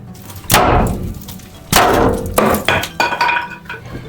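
A hammer strikes wood in a few hard, close blows at an irregular pace, each with a short ringing tail, during work replacing the basement steps of a 200-year-old farmhouse.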